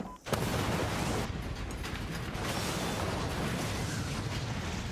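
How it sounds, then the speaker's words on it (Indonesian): Two military team cars blow up in a sudden blast, a sharp loud burst followed by a sustained roaring rumble of fire and debris. "kedua mobil yang ditumpangi tim meledak tak tersisa"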